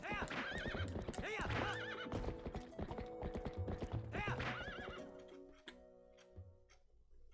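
A horse in Zelda: Twilight Princess whinnies repeatedly over quick clip-clop hoofbeats, loud and close, with game mechanism ticks, fading to quieter sounds near the end.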